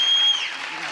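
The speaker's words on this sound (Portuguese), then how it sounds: "Palmas calorosas para esta" Audience applause for someone speaker at a design conference, a steady wash of clapping across the whole second that dips only slightly partway through, with no voices.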